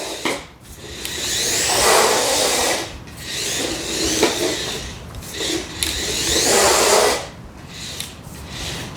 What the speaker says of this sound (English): you might just be able to hear as well a lot of scraping